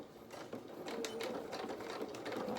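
A sewing machine runs steadily for the whole stretch, stitching the edge of small doll clothes for a cat doll, with a continuous close mechanical whir and fast needle chatter and no talk over it.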